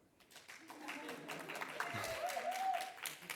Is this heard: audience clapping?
yes